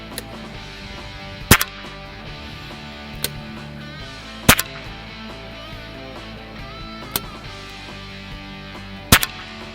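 A BSA Lone Star air rifle fires at a target 50 yards away. Sharp single cracks come one after another, separated by quiet gaps, against a windy outdoor background.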